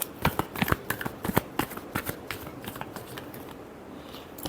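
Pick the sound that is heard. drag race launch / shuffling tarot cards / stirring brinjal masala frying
shuffling tarot cards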